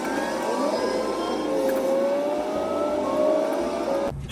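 Race cars at a motorsport circuit are heard from behind a high wall, engines whining and rising in pitch in the distance as they pass, a continuous far-off drone with no talk.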